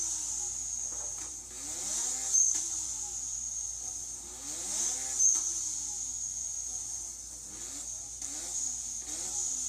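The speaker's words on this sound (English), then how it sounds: "Turbo squeals. That's the HKS blow valve." A turbocharged car with an HKS blow-off valve revs in repeated rising sweeps, each followed by a high turbo squeal and whoosh, moderately loud and cycling several times.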